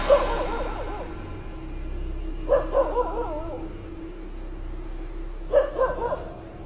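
A dog barks at something out of sight, in three separate bursts of several sharp barks with pauses between, fairly close and outdoors, with a steady low background hum.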